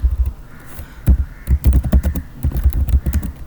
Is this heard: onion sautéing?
no